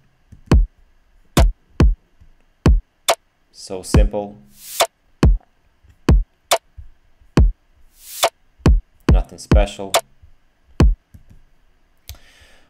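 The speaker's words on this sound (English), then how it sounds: "My drum section sounds like this." Drum section from an electronic track made to sound live: sharp, evenly spaced percussive hits and clicks with a few brighter noisy bursts, clear and close, while a voice briefly speaks over it.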